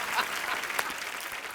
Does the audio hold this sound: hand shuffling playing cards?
no